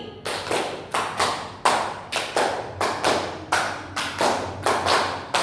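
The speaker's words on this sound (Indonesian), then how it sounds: "Oke, tepuk tangan kita semua." Students in a classroom clap in unison to a counted pattern, bursts of sharp group claps repeating in a steady rhythm roughly twice per second with short gaps between, close and clear without talk.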